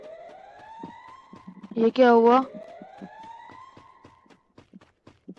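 Siren in the Free Fire battle royale game, rising and falling in slow wails behind footsteps, with a man exclaiming briefly over it in the middle.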